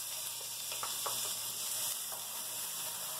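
Chopped onion sizzling and frying in a hot pan for ground beef with potatoes, a steady close crackling hiss with faint scattered pops throughout, no voices.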